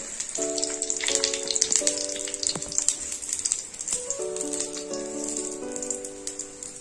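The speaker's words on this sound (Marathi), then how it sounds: "छान गोल्डन क्रिस्पी असा भाजून घ्यायचा आहे" A paneer frankie roll toasting in ghee on a pan, a soft crackling sizzle heard under a tuneful musical melody that plays throughout.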